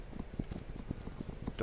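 Horse hooves clip-clop in a video game, a quick, regular run of soft thuds at moderate distance, with a brief sharper burst at the end.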